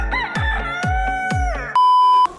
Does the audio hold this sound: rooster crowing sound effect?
yes